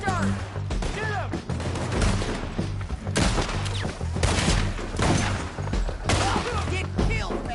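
Repeated gunfire bursts in Red Dead Redemption 2, loud and sustained, with overlapping shouting voices and a steady musical bed underneath.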